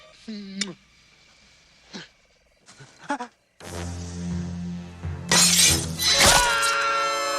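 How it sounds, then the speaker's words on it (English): A glass bottle is smashed in a kill scene from the 1986 slasher film Friday the 13th Part VI: Jason Lives. Short grunting vocal sounds come first, then a loud, bright shattering burst rings out over a low rumbling score. "Jason has caught the bottle, smashes it, stabs him in the neck"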